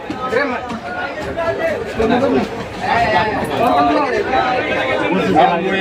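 Dense crowd babble fills a busy railway platform at Bardhaman Junction: many overlapping voices at steady, fairly loud level, with nearer talk rising above the general hubbub throughout.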